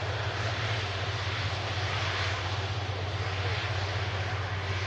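Steady, loud roar of an Airbus A330 airliner arriving from Faro, a continuous engine drone with a low hum underneath, heard at an airport during a plane-spotting session, with no pauses across the span.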